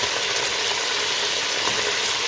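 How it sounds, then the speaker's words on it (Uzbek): Meat frying in hot oil with tomatoes in a dish being cooked for guests: a steady, close, loud broadband sizzle that runs unbroken throughout with no voices. "Go'shtlarimizni qovurib olib"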